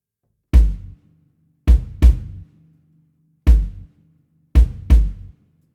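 Sparse, loud bass drum thumps ring out alone, some in quick pairs, with gaps of silence between the hits.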